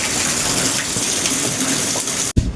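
Rainwater rushes steadily across a flooded road, a loud continuous gushing wash that fills the scene before cutting off abruptly near the end.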